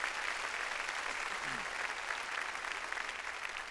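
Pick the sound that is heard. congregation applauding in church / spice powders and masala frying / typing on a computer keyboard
congregation applauding in church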